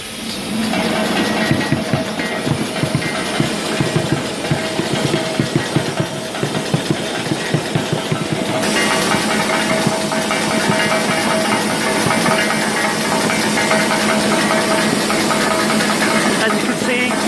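A double twist wrapper machine runs at about 300 pieces per minute, making a loud mechanical clatter with rapid rhythmic ticking over a steady whirring drone that smooths into an even whir partway through.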